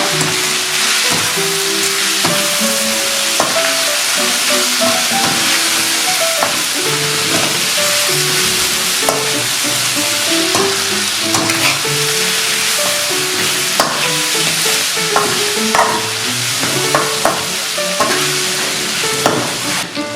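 Chicken stir-fried with pounded chili, garlic and salt sizzles steadily in a hot pan, with repeated scraping and clanking of a utensil stirring throughout, close and loud with no talking.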